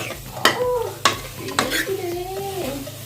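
Tomatoes fry on high flame in a pan for a radish chicken gravy. Three or four loud stirring scrapes rise over a steady sizzle, with a faint sustained tonal sound in the background.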